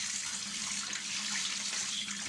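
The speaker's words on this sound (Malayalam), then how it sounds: "ഇത് കറുത്ത കൂന്തളായ കാരണം നല്ല കഴുകി വൃത്തിയാക്കണം ഗായ്സ്." Tap water runs steadily into a sink while black squid is washed, a soft, continuous splashing stream close by with no talking.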